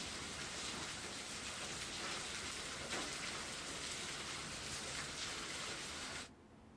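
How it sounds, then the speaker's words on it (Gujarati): Steady heavy rain, with hail also reported, falls in a continuous dense hiss across the whole stretch before cutting off abruptly near the end. "કરા સાથે અહીં વરસાદ વરસ્યો હતો"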